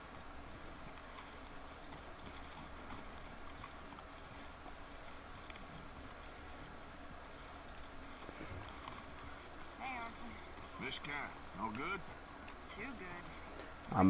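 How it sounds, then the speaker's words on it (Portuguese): Horse hooves clip-clop steadily in Red Dead Redemption 2, set under a continuous bed of ambient game sound with brief louder bursts toward the end; a voice talks over parts of it. "Vamos conduzir o nosso cavalo aqui."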